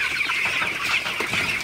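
A dense crowd of broiler chickens clucks and chirps without pause inside a shed at night, a steady close wash of overlapping bird sounds.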